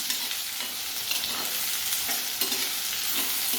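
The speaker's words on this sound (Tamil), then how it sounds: "கடாயில் எண்ணெய் நல்லா சூடாயிட்டு நம்ம வடிகட்டி வச்சுருக்கிற இந்த பிரண்டையை நம்ம இதோட சேர்த்துக்கணும்" Prandai (adamant creeper) frying in hot oil in a kadai, a steady dense sizzle with occasional stirring scrapes, close and continuous with no voices.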